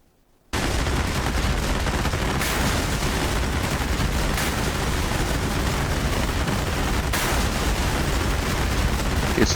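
Cluster submunitions from JSOW glide bombs bursting over an SA-2 SAM site with a Shilka in the DCS combat flight simulator, a sudden onset into a sustained loud dense roar of crackling explosions with a few sharper peaks.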